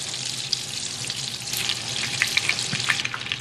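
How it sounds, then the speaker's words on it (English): Butter melting into hot oil in a pan while cooking linguine with clams, giving a steady, close frying sizzle with soft crackles and small pops throughout. "Get that butter melted down into the oil."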